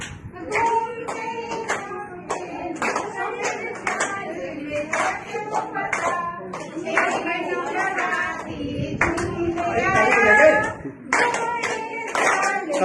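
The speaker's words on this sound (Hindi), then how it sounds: "ताली बजाइए कम से कम।" A gathering of children and adults claps along to a sing-along of the nursery rhyme about a fat elephant, with steady rhythmic claps running under continuous singing and talking voices.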